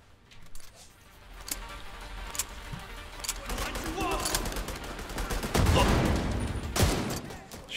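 Video game gunfire in The Division 2, with rapid bursts and scattered single shots building into sustained automatic fire, loud and close, alongside other in-game effects.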